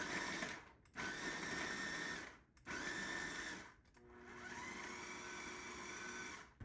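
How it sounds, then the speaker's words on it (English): Kitchen blender pulsing garlic for homemade tomato sauce: a loud whirring motor in three bursts, two short pulses with brief stops between, then a longer steady run, with no talking. "Let's blend this up."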